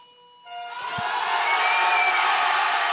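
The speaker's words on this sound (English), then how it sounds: "the crowd here in the Tissot Velodrome in Grenchen has gone wild" Crowd in the Tissot Velodrome in Grenchen erupting at the end of a track cycling hour record, a faint murmur swelling quickly into loud, sustained wild cheering and whistling.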